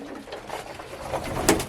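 Pigeons coo softly and steadily in the background, with a brief louder flutter or call near the end; no voices.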